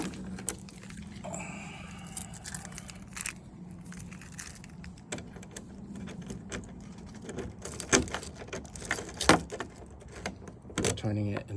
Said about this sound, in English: put your keys back in.